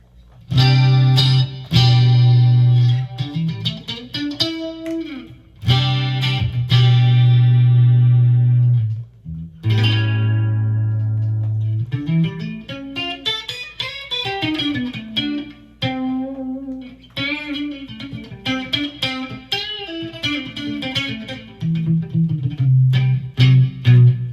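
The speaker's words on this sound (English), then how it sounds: "just do the clean with the chorus through here with the reverb" A clean electric guitar played through a NUX Trident multi-effects pedal with chorus and reverb, ringing chords and sustained notes alternating with short melodic runs, shimmering and spacious, with no talking.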